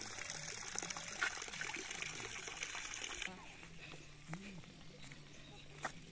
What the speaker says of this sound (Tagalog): tuloy-tuloy yung agos ng gripo natin